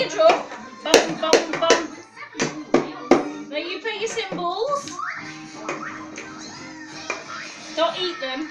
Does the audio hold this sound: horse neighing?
no